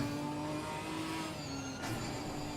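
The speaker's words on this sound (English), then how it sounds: "Just listen to those engines." Race car engines in Assetto Corsa Competizione at Snetterton, including a small 4-cylinder Ginetta and a Camaro, drone steadily and loudly throughout with a sustained high whine and a brief surge near the end, no talk.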